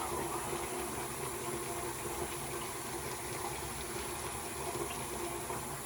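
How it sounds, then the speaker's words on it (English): Water pouring steadily in a barbershop during a shave, a continuous broad rushing stream with no breaks. "While this water's pouring,"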